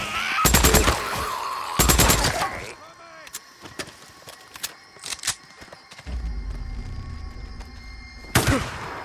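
Bursts of gunfire in Days Gone, two rapid automatic volleys early, scattered single shots in a quieter middle stretch, then a final loud burst, with rumbling background noise and talk mixed in.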